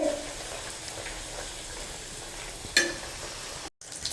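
Pea-filled kachoris deep-frying in hot oil give off a steady, soft sizzle with a brief sharper crackle near the end, with no voices.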